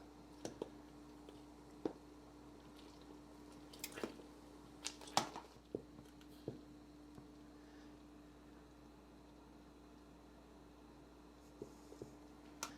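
Cranberries heating in a pot pop with scattered sharp little clicks and snaps over a faint steady hum, quiet and irregular, thinning out toward the end, with no voices.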